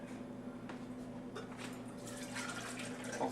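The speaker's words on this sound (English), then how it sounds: "And then you pour this into your shaker." Bubble tea with a bit of honeydew is poured into a shaker, a faint soft trickle of liquid over a low steady hum.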